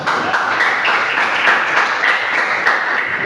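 A classroom of students applauding together, steady dense clapping that holds at an even level for a few seconds.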